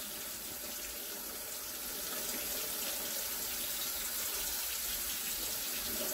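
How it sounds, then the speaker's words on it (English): Water pours steadily from a tap in a continuous broadband hiss of flow, holding at an even, moderate level with no voices. "Let me run the water on the other side for a bit."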